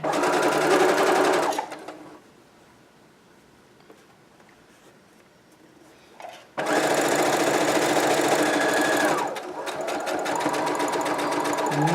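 A sewing machine stitches a flat felled seam in two runs, a brief burst, then a pause of near quiet, followed by a longer steady whirring stretch that eases slightly toward the end.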